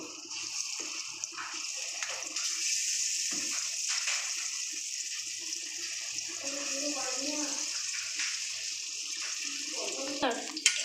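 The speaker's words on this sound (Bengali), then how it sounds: "এবার আমি এক এক করে বড়াগুলো ভেজে নেব।" Fritters (bora) frying one by one in oil, a moderate steady sizzle with faint sounds of handling the pan and a little background voice.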